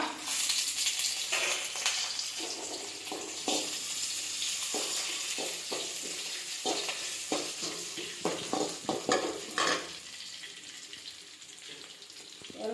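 Small shallots sautéing in a pan with curry leaves and dried chillies nearby, a steady hissing sizzle broken by frequent scraping stirs of a spoon against the metal, fairly close and without talk.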